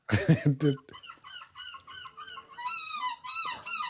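A woman contestant at a pig calling contest squawks and clucks like a hen, a voice imitating poultry in a loud rhythmic run of honking, crowing calls after a brief burst of sound.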